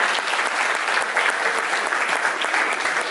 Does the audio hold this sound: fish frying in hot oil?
no